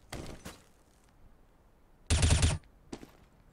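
Gunfire in the video game Counter-Strike on the de_mirage map comes as several short bursts of shots, one louder and denser than the rest, close and punchy, with brief gaps between them.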